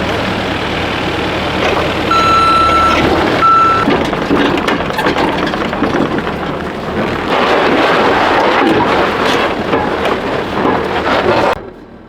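A hook lift truck backs up outdoors in a snowstorm, its reversing alarm giving two steady high beeps over loud engine rumble and wind noise that continues to the end.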